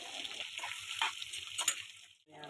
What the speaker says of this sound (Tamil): ஒரு வாணலில் நல்லெண்ணெய் சேர்த்து எண்ணெய் காஞ்சதும் கடுகு சேர்த்து கடுகு பொரிஞ்சதும் நம்ம கட் பண்ணி வச்சுருக்க மாங்காவெல்லாம் சேர்த்து